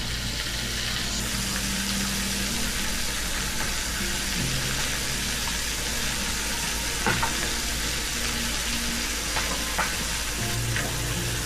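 Curry leaves fry in hot oil for a spicy mutton rib fry, giving a steady, close sizzle with light stirring scrapes throughout and a low hum underneath.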